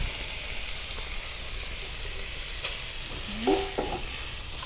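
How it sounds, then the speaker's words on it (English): Hamburger meat and mushrooms fry with a constant, rain-like sizzle, and a spoon stirs them together with a brief scrape and clink near the end. "Stir it all together."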